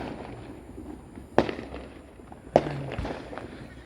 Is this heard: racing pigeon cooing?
no